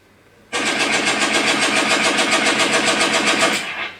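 Automatic fire from an AGM STG 44 airsoft rifle, a replica of the WWII assault rifle: one continuous, rapid, even burst lasting about three seconds, loud and close, with no talking.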